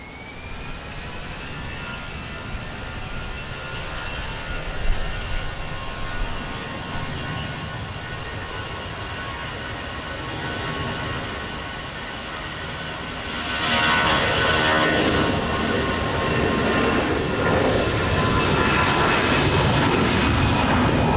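Aircraft engines rumble and whine steadily at Lisbon Airport in rain, a sustained jet drone with a high tonal whine that swells louder near the end, with no talk.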